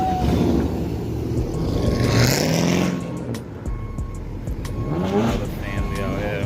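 Chevrolet Camaro V8 cars rev and drive past at a car meet, a deep engine rumble that rises and falls, with people talking over it.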